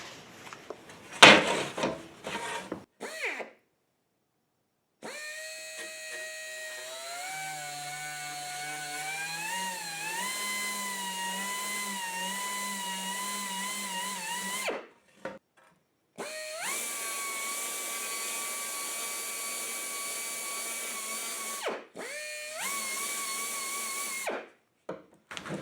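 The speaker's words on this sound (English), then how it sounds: "I'm just going to use a Tootsie Roll sanding disc and just go around a couple times" Whining power tool with a sanding disc spins up and runs in several bursts, pitch rising and falling as it grinds against a Mustang's metal engine block, with short silences and clunks between runs.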